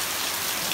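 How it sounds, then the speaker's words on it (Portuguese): Steady rain pours down in a dense, even hiss, close by and fairly loud, with no voices. "Aí, ó, chuva caindo do céu,"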